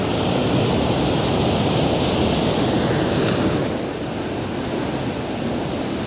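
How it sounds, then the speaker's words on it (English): Large ocean waves break and wash onto a shore on a prehistoric coastline, a loud continuous roaring surge with wind across the microphone, easing slightly near the end. "the big waves want to come in"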